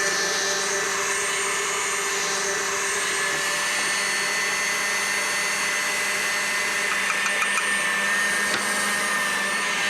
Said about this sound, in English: I'm going to put my 4 egg whites, and then I'm going to start whisking it. So up on high